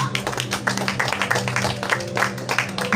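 A church congregation claps steadily for about three seconds, dense rhythmic applause filling a hall with a low hum beneath, moderately loud and continuous.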